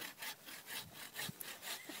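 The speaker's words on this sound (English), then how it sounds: "It's really sawing." A hand saw cuts through the trunk of a Christmas tree outdoors, rhythmic rasping back-and-forth strokes about four per second, close and steady with no talk.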